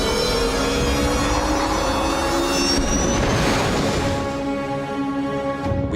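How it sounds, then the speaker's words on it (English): A spacecraft's emergency thrust vectoring engines in an animated show give a steady, loud, continuous jet-like roar with tonal whine that holds for several seconds. "Engaging emergency thrust vectoring to compensate."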